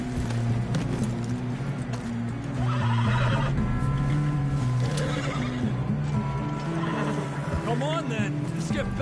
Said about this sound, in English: Get a hold of that horse